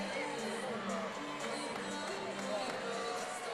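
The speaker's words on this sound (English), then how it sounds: "the crowd is actually on their feet cheering for Caitlin, trying to motivate her to get through the rest of this routine" A gymnastics arena crowd on its feet cheering for a gymnast in a Maryland versus Ohio State meet, a steady roar of distant voices with a commentator talking over it.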